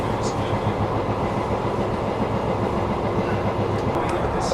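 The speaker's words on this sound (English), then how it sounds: "Obviously a fairly busy rail link into Larkin. Trains galore." A Swiss train clatters steadily along the rail line, a continuous close rumble with rhythmic wheel clicks throughout, no voices.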